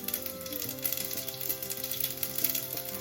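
Mustard seeds sizzle and pop while tempering in a hot pan for a lentil soup, a steady close crackling hiss that runs alone with no talk.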